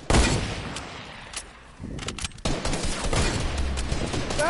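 Rapid video-game gunfire in a duos match, dense bursts of shots and automatic fire filling the clip with a brief lull in the middle, loud and close throughout.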